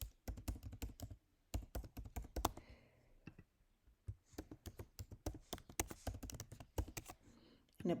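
Rapid keyboard typing on a computer keyboard while entering an email address into a sign-up form, with close, crisp clicks in quick bursts and a couple of short pauses.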